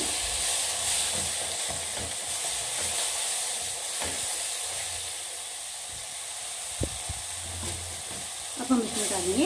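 Shahi bharta mixture is stirred in a hot pan with a steady, close sizzling hiss throughout, a few soft scrapes of the spoon, and a brief louder clatter near the end.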